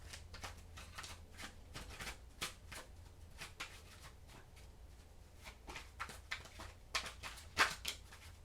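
Tarot cards are shuffled by hand in a quiet room, a run of soft, rapid riffling and slapping bursts, faint and close, with a few sharper snaps near the end.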